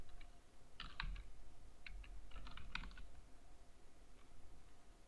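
Computer keyboard typing in short bursts of quick clicking keystrokes, close and fairly quiet over a steady low background hum, with no speech.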